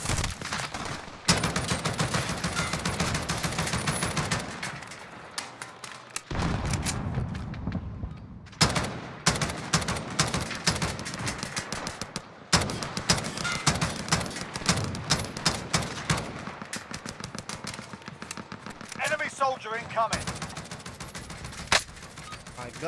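Rapid gunfire bursts from the video game Warzone, Modern Warfare, with repeated sharp shots and automatic volleys across most of the stretch, loud and close, interspersed with brief pauses and faint game voices.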